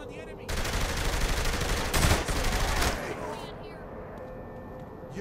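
Sustained automatic gunfire roars in the video game Saints Row The Third Remastered, a dense continuous burst lasting a few seconds before cutting off into quieter game ambience.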